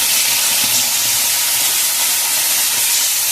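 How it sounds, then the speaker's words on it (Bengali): Tilapia fish frying in hot oil, a loud, dense, continuous hiss and crackle that holds steady throughout with no voices. "মাছটা দিয়ে দিলাম, মাছটা ভাজা হোক।"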